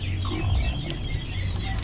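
A mother hen clucks softly and steadily close by, low murmuring calls running continuously through a short farmyard moment.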